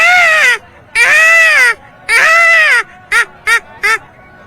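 A man imitates a peacock call with his voice: three long, loud, wailing cries followed by three short, sharp yelps, close and clear with no other sound between them.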